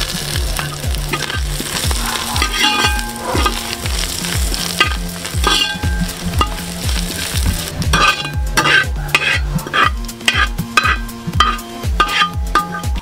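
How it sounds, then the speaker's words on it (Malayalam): Grated coconut and curry leaves roast in a hot pan with a steady, close sizzle, while a spoon scrapes and stirs in a brisk, regular rhythm throughout, with no voices. "അപ്പോൾ നമ്മൾ തേങ്ങയൊക്കെ ഏകദേശം വറുത്തു വന്നിട്ടുണ്ട്"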